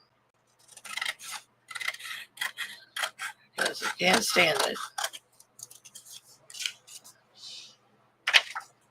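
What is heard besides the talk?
cutting paper with scissors to straighten a tear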